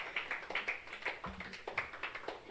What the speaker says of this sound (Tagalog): Palakpak muli tayo sa Panginoon